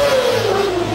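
A Ninja motorcycle engine revs hard in a brief, loud burst with a falling whine, no talking.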